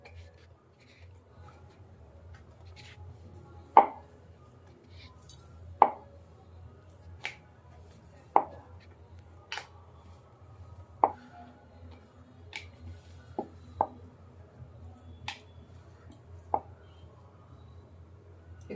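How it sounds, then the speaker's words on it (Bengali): Kachori dough being rolled out one by one with a rolling pin makes faint, sparse taps and knocks at irregular intervals against a quiet low hum, close by, with no talk. "এক এক করে সব কচুরিগুলো আমি বেলে নিচ্ছি"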